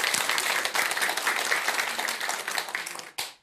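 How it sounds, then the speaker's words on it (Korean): Audience at a Buddhist dharma talk breaks into applause, dense, lively clapping that holds steady for about three seconds before cutting off abruptly, followed by a last short flurry. "먼저 박수 한번 드리세요"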